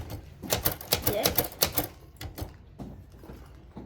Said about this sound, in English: I'm gonna do the typewriter real quick.